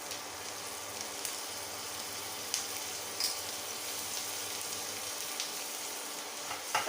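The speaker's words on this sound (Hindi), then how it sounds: "ताकू टिके हल्का फ्राए करदे।" Ginger, garlic and green chili frying lightly in a pan along with bay leaf, producing a quiet, even sizzle with a few soft stirring clicks and no talking.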